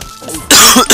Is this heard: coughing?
yes